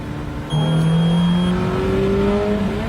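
A Ferrari 430 Spider's engine revs on a track, a loud rising tone that climbs steadily and holds, heard up close with no talk over it.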